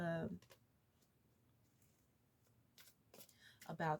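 A tarot card deck is handled and shuffled in a few quick, soft clicking and riffling bursts near the end, with a person talking at the start and close.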